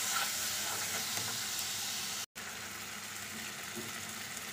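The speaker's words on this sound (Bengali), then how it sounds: "এবার ভালো করে মশলাটা এই দইয়ের সঙ্গে কষিয়ে নেব।" Spice paste and whisked sour yogurt sizzle and fry in a pan for a ridge gourd dish, a steady broadband hiss with faint stirring scrapes, briefly cutting out midway before resuming at the same level.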